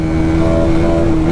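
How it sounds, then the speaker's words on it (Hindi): A Hero Xtreme 250R motorcycle engine runs close by, a loud steady drone with a constant pitch and no talking. "बाइक की आवाज़ बहुत प्यारी है भाई"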